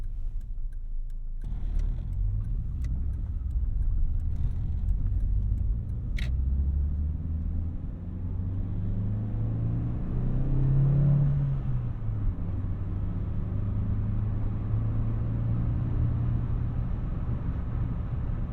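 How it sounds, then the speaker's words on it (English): A 1988 Honda Accord LX-i with a five-speed manual gearbox cruises along, its engine a steady low rumble inside the cabin, with a brief rise and fall in pitch as it shifts and some faint ticking. "Next up, we're going to be able to drive this 1988 Acura Integra."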